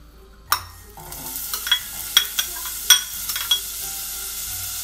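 Onions hit a hot pan and begin sautéing with a sudden sizzle that settles into a constant hiss, broken by several sharp stirring scrapes and taps up close.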